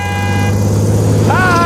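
A bus nearly hits a cyclist, its horn blaring in a sustained toot that shifts pitch near the end, loud and close over a rumbling engine and traffic.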